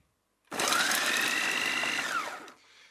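An electric meat grinder, loaded with chicken for Adana kebab, starts abruptly and runs with a loud, steady whining motor hum for about two seconds before winding down, heard close with no talk.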